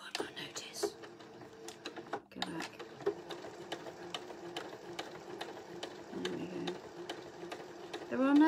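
A sewing machine stitches a hair scrunchie in a steady, repetitive mechanical run with fast needle ticks, close and fairly quiet, with brief pauses and soft handling noises.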